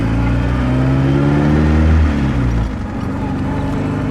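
A 1956 Austin-Healey 100-4 BN2 pulls away on the road, its engine note droning steadily and climbing through a rev rise before easing off after a gear change, loud and close with no talk.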